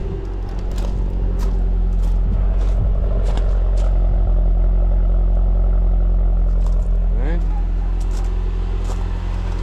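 A 2005 white Chrysler PT Cruiser GT turbo engine idles steadily after start-up, a loud close hum with faint clatter, while someone talks over it.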